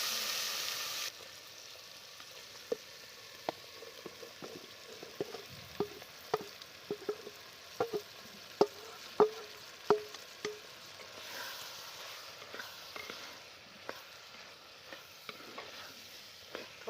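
Spice-mixed corn kernels for a village-style makai chevdo fry in a pan with curry leaves, asafoetida and turmeric, giving a soft steady sizzle broken by a series of sharp spoon scrapes and taps as it is stirred.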